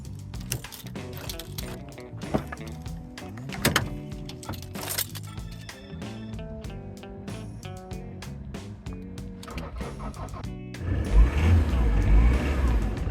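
A diesel heater in a camper van struggles through a cold start, a brief rough roar that rises near the end after a stretch of clattering and a man's speech.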